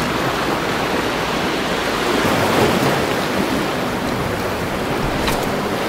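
Calm ocean waves wash against a rocky shore where an angler stands fishing, a steady close rush of surf and spray without a break.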